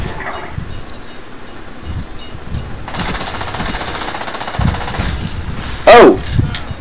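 An Uzi submachine gun in a Call of Duty: Black Ops match fires a dense, rapid burst of shots in the middle, followed by a loud blast and scattered in-game rumbles and noise.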